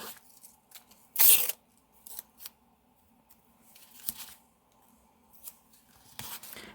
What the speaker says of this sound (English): I've got some masking tape, which I'm going to use to start putting down some texture.